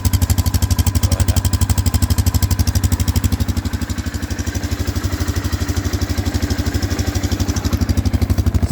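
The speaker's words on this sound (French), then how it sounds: "Ça fait un beau bruit de quad" Quad bike engine idling close by, a steady rapid chugging pulse with mechanical clatter that holds evenly throughout, heard alone.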